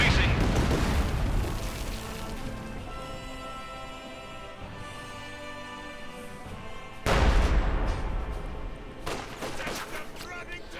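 Howitzer artillery fire rumbles through a Company of Heroes 2 battle, with booming blasts and crackling gunfire that swell again partway through, while a commentator talks over the din.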